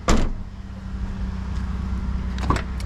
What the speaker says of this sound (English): electric windows all round.